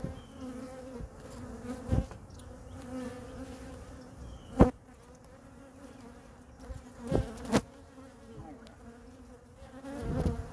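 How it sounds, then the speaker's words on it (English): Honey bees buzz steadily around a hive box while nucs are installed outdoors, a dense continuous insect drone with a few louder close passes and light knocks, no talking. "Sorry, little bee."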